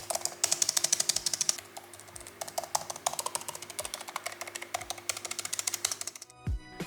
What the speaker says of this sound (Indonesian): Buat ngetik masih nyaman, tactile kerasa